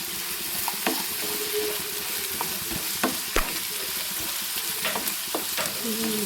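A frying mixture with a special spice blend is stirred in a pan, a steady sizzle running throughout with occasional scraping clicks of the spoon against the pan.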